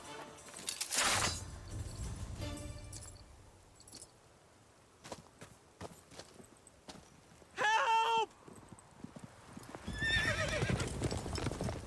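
Horse hooves clip-clop in The Witcher 3 game, scattered hoof strikes with a loud whinny from the horse midway, faint sounds between, and another neigh near the end.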